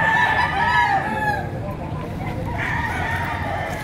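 Roosters crow at a gamecock auction in Padre Garcia, Batangas, with one loud crow up front and other birds calling further off over a steady crowd murmur.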